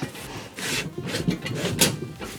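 Metal inner leg of a DIY hydraulic levelling leg slides into its snug-fitting outer leg, making a series of rough scraping and rubbing strokes, close and fairly loud.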